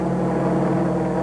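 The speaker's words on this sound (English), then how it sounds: "The helicopter is over the Memorial Coliseum." Helicopter flying over the Los Angeles Memorial Coliseum, a steady loud rotor and engine drone that stays even and continuous throughout, with no talk.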